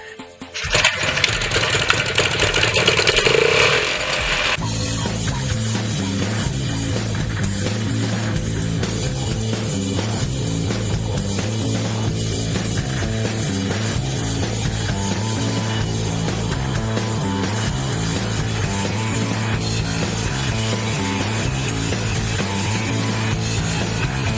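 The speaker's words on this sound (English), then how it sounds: "Instead of powering the arm with gears and powering it at the shaft, I just put a little ultralight engine on the other end." A small ultralight engine mounted on the end of a homemade centrifuge arm starts with a rough burst, then settles into a loud, steady droning run with an even rhythmic pulse that continues unbroken.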